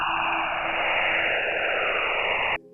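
Aurora radio emissions from Jupiter picked up by the Juno spacecraft, heard as a dense, steady hiss of static with faint sweeping tones drifting through it, loud and continuous before cutting off abruptly near the end.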